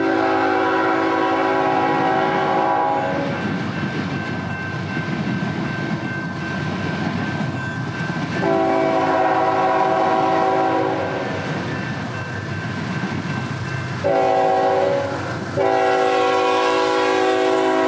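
Northbound CN manifest freight led by two 4,400-horsepower GE wide-cab locomotives, loud and close, with steady rumbling rolling noise, long sustained horn blasts at the start and again midway, and shorter horn bursts near the end.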